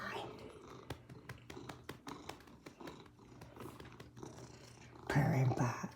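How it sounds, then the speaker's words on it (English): A large cat purrs softly and continuously at close range, with light tapping sounds over it and a louder burst of noise near the end. "Purring bot."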